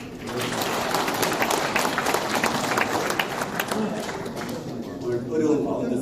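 Audience applause at a new year gathering of business leaders in Gumi, a steady crowd clapping with a talking voice faintly mixed in underneath.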